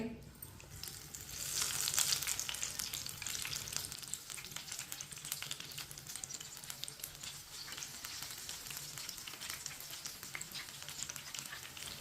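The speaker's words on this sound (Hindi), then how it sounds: "ऑयल को मैंने दोबारा गर्म कर लिया है उसी पैन में। अब इसमें चिकन डाल लेंगे।" Masala-coated chicken pieces fry in reheated oil in a pan, giving a steady crackling sizzle that swells as the pieces go in and then keeps bubbling evenly, fairly quiet and close.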